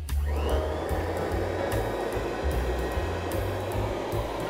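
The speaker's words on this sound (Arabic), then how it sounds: "ماما شغلت المكنسة يا رؤى، لازم نشيل لعبنا الصغيرة بسرعة، ممكن تتشفط بالمكنسة." A household vacuum cleaner runs with a constant loud whirring motor drone and airy hiss that stay steady the whole time, with some thumps underneath.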